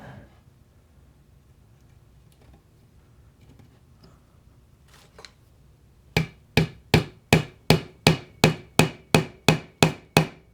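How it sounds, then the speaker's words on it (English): After quiet rustling, a hammer drives glued wooden dowels into wood in a rapid, even series of about fifteen sharp, loud knocks. "A little glue on the dowels, and we'll hammer it home."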